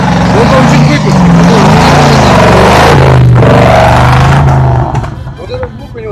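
A Lada Niva off-road car, built up for a forest trophy event, revs hard and loud up close, its engine note swelling and dipping before easing off near the end, with voices talking over it.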